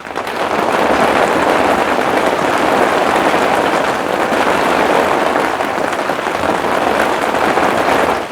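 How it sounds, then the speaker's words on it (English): Rain falls outdoors on a pressure-washing worksite, a steady, dense patter held at an even level for several seconds. "And the rain's starting."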